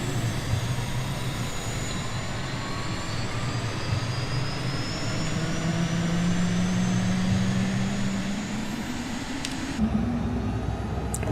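A Cirrus Vision Jet's single jet engine spools up on startup, a steady close whine and rising hum building over roughly ten seconds inside the cockpit, without any talking.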